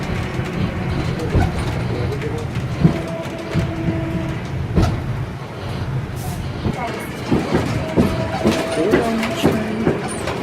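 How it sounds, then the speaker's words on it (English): Loud, steady rumble of a train carriage in motion, with rattling, clunks and a few tonal squeals, and faint voices underneath. "Bouncy noisy train."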